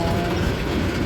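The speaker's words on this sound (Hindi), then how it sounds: "मुझे ऐसा क्यों लग रहा है जैसा ट्रैक्टर की आवाज़ आ रही।" A tractor engine heard as a loud, continuous low rumble filling the whole moment, dense and close, with no pauses or talking.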